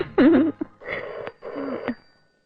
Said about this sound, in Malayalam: ആരാടാ ഈ പാതിരാക്ക് ഫോൺ ചെയ്ത് ഡിസ്റ്റർബ് ചെയ്യുന്നത്?